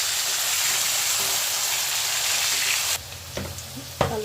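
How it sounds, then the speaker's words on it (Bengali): Turmeric-and-salt-coated potatoes fry in oil with nigella seeds and green chillies, a loud, dense close sizzle that drops abruptly, leaving a few stirring scrapes and a sharp clink. "আলুটা অল্প ভাজা হয়ে গেছে"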